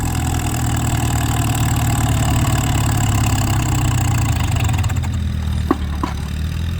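A Farmall H tractor runs at the Big Sky Jubilee in Anselmo, Nebraska, its engine giving a loud, steady, low rumble throughout, with a couple of sharp clicks near the end.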